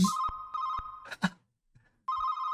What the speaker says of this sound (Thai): โทรศัพท์หลอนน้องๆ ใครจะรับ ใครจะรับเนี่ยโทรศัพท์ผี